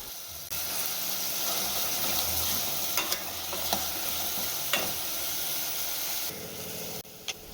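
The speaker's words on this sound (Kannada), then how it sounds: "ಟೊಮೆಟೊ ನೀಟಾಗಿ ಫ್ರೈ ಮಾಡ್ಕೊಬೇಕು" Tomato frying in a pan with a little salt, a steady close sizzle and hiss with a few clinks of a spoon stirring, quieting near the end.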